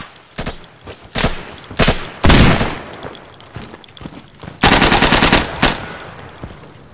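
Gunfire in the Insurgency video game, loud sharp bursts of rapid automatic fire mixed with single shots, coming in irregular clusters over several seconds, no talk.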